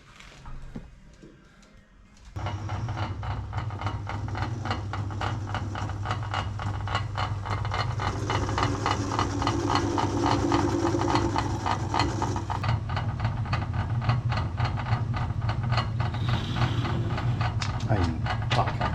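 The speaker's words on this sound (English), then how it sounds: "Dom's going to work his magic on the lathe." A lathe machines a bicycle part in a workshop, a steady loud mechanical drone with rhythmic ticking that starts abruptly after a quieter opening and continues, with faint voices in the background.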